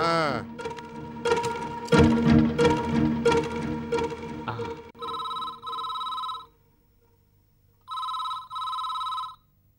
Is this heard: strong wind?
no